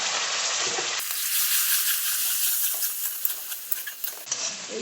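Tomato paste sizzles and fries with spices in a pan of spicy chicken kasha gravy, a steady bright hiss with crackling pops that thicken toward the end, close and loud with no talking.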